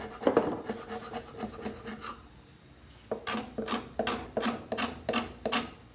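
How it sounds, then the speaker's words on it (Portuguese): A medium wood chisel scrapes across the top of a carved wooden piece, first a run of soft rasping strokes, then after a short pause six or seven crisp, evenly spaced scraping pulls, close and fairly quiet. "Você vai passando e raspando com o formão, com cuidado, parte de cima."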